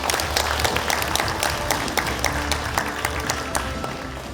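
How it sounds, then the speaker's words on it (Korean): Loud, sustained applause from a forum audience after a keynote lecture on tourism, a dense wash of many hands clapping at once with no break. "다시 한번 큰 박수 부탁드립니다."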